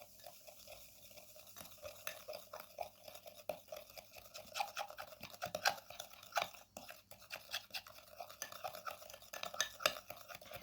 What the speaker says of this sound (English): Add 1 teaspoon of fresh lemon juice and now mix well all the ingredients.